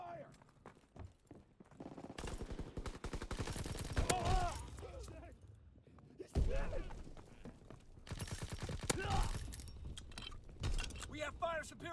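Gunfire from the World War II shooter Call of Duty: WWII, with bursts of fusillade and machine-gun fire crackling over a loud, busy battle soundscape while soldiers shout and talk throughout.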